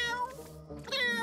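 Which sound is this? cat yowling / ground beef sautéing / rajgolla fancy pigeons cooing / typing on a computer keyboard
cat yowling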